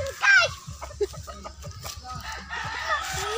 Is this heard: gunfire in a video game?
no